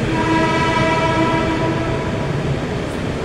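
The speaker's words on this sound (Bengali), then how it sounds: "ওই লাইনে ট্রেন আসছে" A train pulls in on a Bangkok rail line, a steady loud rumble of rolling wagons with sustained horn-like tones layered over it, close and continuous for a few seconds, no voices.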